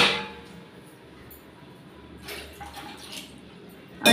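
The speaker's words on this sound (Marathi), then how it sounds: "अजून अर्धा तांब्या पाणी घेणार आहे." Water poured from a small vessel into a cooking pot while making egg fried rice: a faint, brief splashing pour in the middle of otherwise quiet kitchen surroundings.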